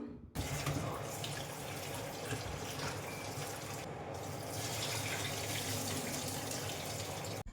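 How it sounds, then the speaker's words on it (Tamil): Running water splashes continuously from a tap over tuna fish being rinsed in a sink, with brief clattering handling sounds and no voices. "அதுக்கப்புறம் நல்லா தண்ணி விட்டு 2-3 தண்ணி கழுவி எடுத்துக்கிடலாம்"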